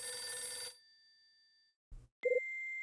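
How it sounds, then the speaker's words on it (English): Telephone ringing in the video game Last Window, a bright electronic ring tone that stops, followed after a short silence by a soft thump and a second ring starting, close and clean with no talk. "Damn, this is a bad time for the phone to ring."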